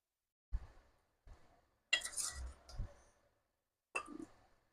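Truti fruti candy pieces portioned into two bowls in a kitchen, giving soft scattered clinks and light clatters, a few separate bursts with quiet gaps between, close and faint.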